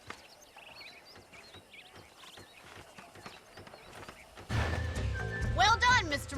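Horse hooves clip-clop steadily in a Red Dead Redemption game soundscape, with birdsong, then a louder swell of music and a horse whinny near the end.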